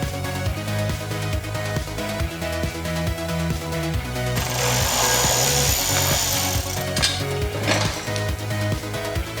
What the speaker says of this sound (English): we had to get the Dremel out and cut it out completely